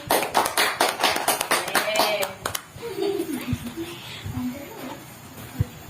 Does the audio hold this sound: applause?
yes